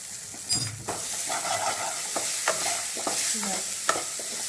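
A spoon stirs turmeric and chili powder through oil in a frying pan over a lowered gas flame, repeated scraping strokes and a knock over a steady close sizzle, no talk.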